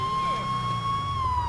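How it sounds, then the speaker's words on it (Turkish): A police car siren in GTA 5 wails loud and close, a steady electronic tone with a brief sweep, continuous through the clip. "Sirenlerimiz bu şekilde gençler."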